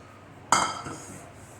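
Roasted flour tipped onto a metal plate: a sharp metallic clink of the plate, then a brief rattling ring that fades over about a second, close up in a quiet kitchen.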